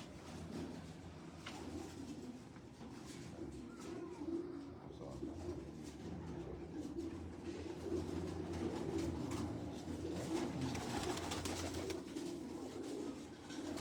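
Pigeons in a loft coo in a low, continuous rolling murmur, faint and steady beneath light background sounds and occasional voices.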